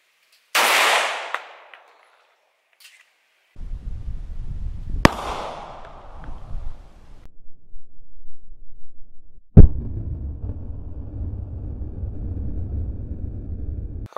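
A Glock 17 fires Hornady Critical Duty rounds into a denim-covered ballistic block: two sharp, loud gunshots several seconds apart, each with a fading echo, followed by a low rumbling background.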